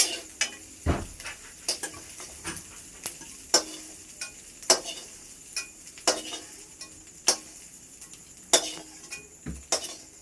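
Salted food being stirred in a frying pan, with a soft continuous sizzle under regular clinks and scrapes of a spoon against the pan.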